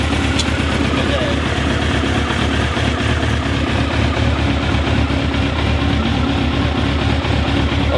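A Suzuki GSX-R SRAD sport motorcycle idles steadily nearby, a constant low engine rumble throughout while someone talks over it.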